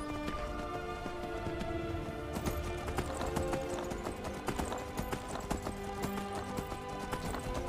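Steady clip-clop of a saddled horse's hooves in Skyrim, a brisk even rhythm close by over a continuous game ambience and music bed, with no talk over it.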